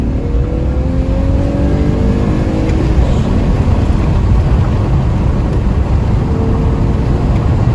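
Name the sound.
Peugeot 205 coupé engine while driving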